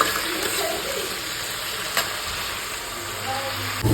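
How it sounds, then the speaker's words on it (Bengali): Vegetables and potato frying in a pan for labra curry, a steady close sizzle throughout with faint stirring, no talk. "এখন তো ভাজতে হবে ভালো করে"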